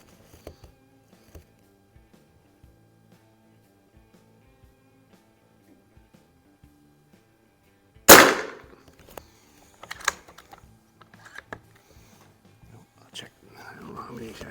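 A Beeman Raider .177 PCP air rifle fires one sharp, loud shot at an outdoor range after a long quiet stretch, followed by a few softer clicks and handling knocks.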